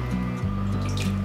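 A toy duck is bathed in water, giving a brief, close patter of splashing and dripping over a steady low hum.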